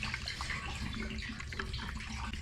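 Gasoline pouring from a can into the fuel tank of an old Mitsubishi 3000GT, a steady continuous liquid splash and trickle, close and fairly quiet, with no talking.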